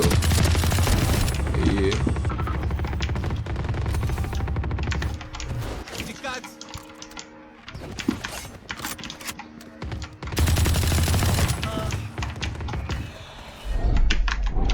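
Shotgun gunfire in the video game Fortnite: heavy, loud bursts of shots and blasts in dense clusters, with a quieter stretch in the middle before more firing.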